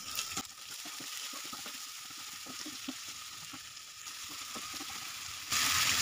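Spice paste with tomato and salt fries in a pan, giving a steady soft sizzle with small scattered stirring taps, a bit louder toward the end.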